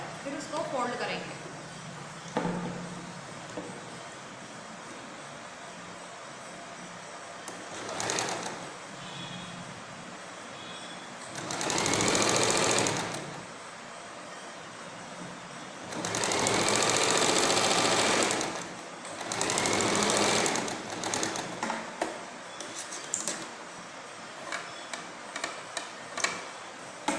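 A sewing machine stitches a blouse in short bursts separated by pauses, each run a quick mechanical whir of ticking stitches, with quiet handling noises between.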